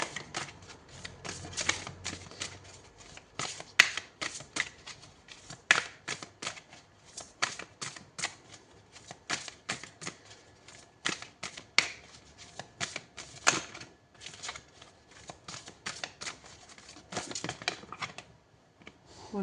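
Tarot cards being shuffled by hand in a quiet room, a dense run of crisp riffling slaps and flicks going on steadily for about twenty seconds, close and fairly soft, with no talking.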